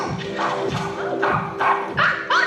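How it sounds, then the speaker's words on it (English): A dog barks several times in a steady series of short, fairly loud yaps, with a constant tonal hum running underneath throughout. "Don't you bark at our dog!"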